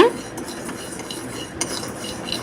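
A spoon stirs and scrapes a thick coconut milk sweet in a pan, with soft metal clinks and a scraping texture that keep going steadily, close by and fairly quiet.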